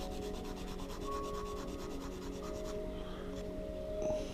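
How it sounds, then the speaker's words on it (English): A part from a 1/144 Bandai plastic model kit is sanded with quiet, rapid back-and-forth rubbing strokes, close and soft, with no talking. "there's a little section here that needs sanding off."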